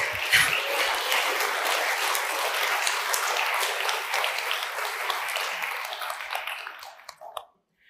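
A conference audience applauds loudly and steadily for several seconds, the clapping tapering off and fading out near the end.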